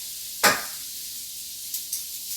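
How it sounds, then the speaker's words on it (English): A short burst of cooking spray hisses once onto fish in a pan, followed by a couple of fainter brief spritzes, quiet and close. "I'm going to put a little more spray right on the fish."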